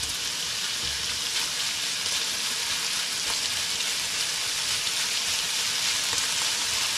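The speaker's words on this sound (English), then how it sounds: "I also like to fry up a little bit of bacon." A little bacon frying in a pan, a steady fine crackling sizzle heard alone and at moderate volume.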